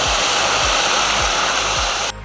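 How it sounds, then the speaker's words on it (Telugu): Water poured into toor dal for a spinach and raw tamarind dal, a steady close rushing pour lasting about two seconds before stopping abruptly. "400 ml వాటర్ పోసాను, అంటే గ్లాసున్నర."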